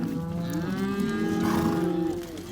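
Cows and their calves moo loudly and continuously on an icy pasture, several overlapping drawn-out calls sounding close with no talking.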